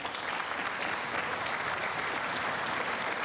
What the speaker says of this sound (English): They stand and clap so damn much.